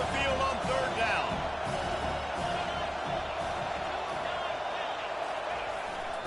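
A home crowd roars in a stadium during a third-down defensive stand in the College Football 25 video game, a dense sustained wall of cheering that stays loud and steady throughout.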